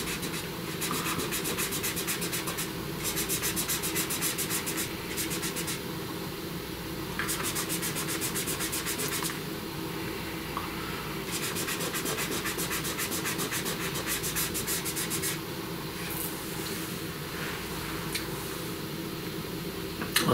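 Pastel stick or fingertip rubbing steadily across paper while blending a flower drawing's background, a continuous soft scratchy friction that swells in repeated strokes, close and fairly quiet with no voices.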